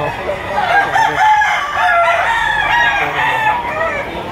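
A bulik gamecock rooster, BB banded, crows loudly and close by, with long, wavering, strained calls filling the whole stretch.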